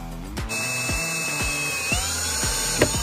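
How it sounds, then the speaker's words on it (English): Power drill boring a 7/32 hole for a watercraft steering control pod, a loud continuous whine near the mic with slight pitch shifts and faint rhythmic ticking, no talk. "we've drilled the small pilot hole, and now we're going to step that up to a 7/32 size hole."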